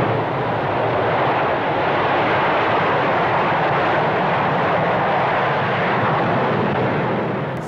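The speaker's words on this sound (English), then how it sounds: "This V-bomber scramble shows the speed with which Bomber Command is able to get a deterrent force into the air" Vickers Valiant V-bombers of Bomber Command scramble and take off, four aircraft airborne in quick succession, giving a continuous loud jet roar that stays dense and steady from start to finish, with no talk.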